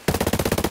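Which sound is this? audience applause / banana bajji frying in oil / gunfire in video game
gunfire in video game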